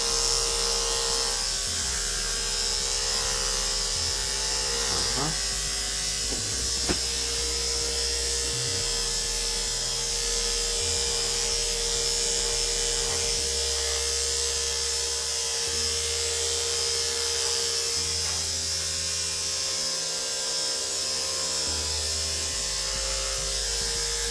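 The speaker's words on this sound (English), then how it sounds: "we're gonna continue trimming and trimming" Electric clippers trim a dog's coat, holding a steady, continuous buzzing hum close by with slight shifts in pitch as the blade moves through the hair, no talking.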